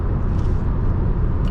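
A 2007 Honda Accord Coupe EX-L V6 accelerating on the road, with a steady, loud engine roar and rumble holding throughout and no voices.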